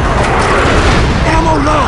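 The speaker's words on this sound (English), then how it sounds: "Mortar strike incoming." Mortar strike in the Vietnam War video game Shellshock: Nam '67: a loud, rumbling blast that fills the short moment, with voices heard over it.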